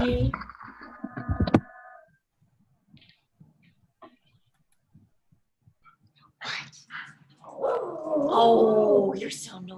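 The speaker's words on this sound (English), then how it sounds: "Is that your doggy, Rosemary?" A pet dog barks and yips in a home during an online group video call, with short sharp bursts early on and a louder run of barking near the end, mixed with faint voices.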